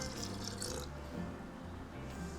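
A little water is poured onto soaked rice in a blender jug, making a soft trickle and splash over a low background hum, brief and close.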